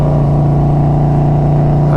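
A Harley-Davidson Road Glide motorcycle fitted with carbon fiber wheels thrums in second gear while riding, a loud, close, steady low engine drone with a strong rumbling tone held throughout, with no voices.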